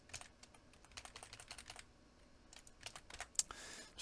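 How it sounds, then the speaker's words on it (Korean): Quiet, quick keystrokes on a computer keyboard come in uneven bursts with short pauses, including a key combination press near the end, with no talking. "이렇게 입력하신 다음에 컨트롤 슬래시를 눌러서 이런 식으로 스위칭을 해주겠죠"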